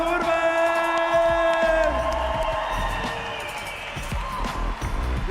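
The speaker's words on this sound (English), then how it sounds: "please big round of applause to Raul" A crowd cheers and applauds at a skateboarding contest prize-giving in Tallinn, Estonia, a loud burst of whoops early on that thins out, with an announcer's voice and background music running underneath.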